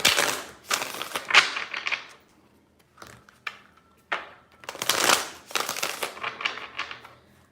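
Tarot cards being shuffled in three bursts of crisp, rapid riffling and slapping, close and fairly loud, separated by short pauses with no talking.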